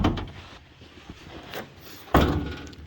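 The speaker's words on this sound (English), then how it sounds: "Closing back doors." Back doors of a 1967 International 1200 utility body are shut, giving a few thuds and a sharp metallic slam near the end, all close by with some low rumbling between impacts.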